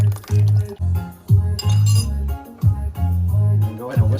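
Flax egg poured from a bowl into a vegan macaroni pie mixture, giving close, faint liquid glugs and a few light clinks of glass over a steady low background hum, with no talk.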